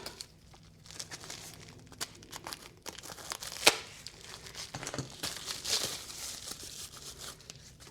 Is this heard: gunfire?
no